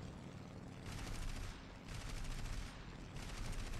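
Gunfire in the War Thunder combat game comes as three sustained bursts of rapid, rattling shots, quiet and distant, with short gaps between them.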